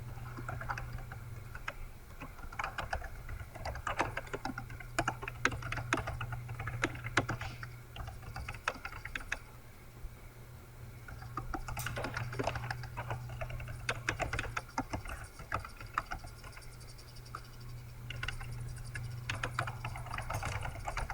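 Quick, steady clatter of typing on a computer keyboard, with rapid irregular keystrokes continuing throughout at low level over a faint background hum, with no voices.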